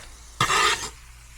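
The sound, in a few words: Spam slices sizzling while frying in a pan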